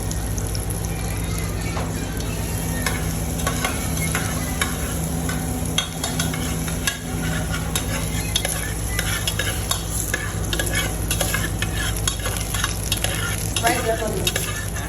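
Pepper fried chicken frying in a pan, a loud continuous sizzle with stirring and scraping throughout, a steady hum underneath.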